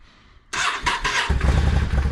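A Yamaha V-Star 650 motorcycle engine cold-starts after a quiet pause, with a brief starter crank, then catches into a loud, close, rumbling idle that keeps running.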